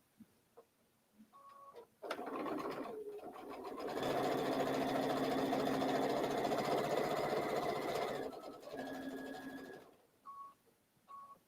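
Sewing machine running a decorative stitch across fabric: short start-stop bursts, then a long steady whirring run of rapid needle clatter in the middle, close and fairly loud, with brief quieter stitches at the end.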